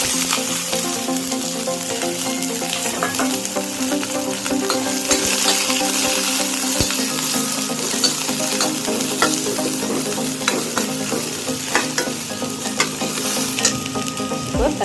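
Onions frying in hot oil in a pan, cooked for a Tamil-style capsicum chutney: a steady, close sizzle with occasional stirring scrapes, no voices.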